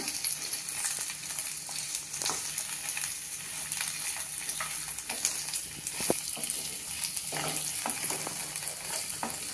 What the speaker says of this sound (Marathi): पण थोडंसं परतायचं, खमंगपणा येतो मसाल्याला